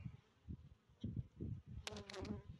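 Bees buzzing close by at a hobby beekeeper's outyard hive, a steady insect drone with louder passes as individual bees fly near; a brief higher rustle or scrape near the end.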